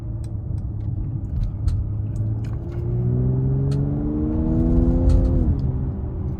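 A 2019 Mercedes-AMG GLC 43 Coupe accelerating in a straight line, its engine note climbing steadily in pitch as the revs rise before dropping away at a shift, heard from inside the car over a low road rumble.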